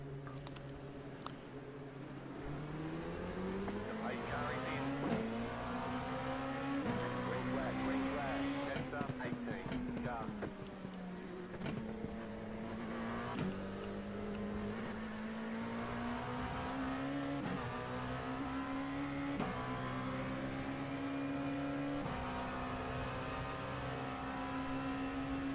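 LMP2 race car engines from iRacing at Road Atlanta, droning and rising in pitch through repeated gear shifts as the field accelerates from the start, steady and moderately loud under occasional talk.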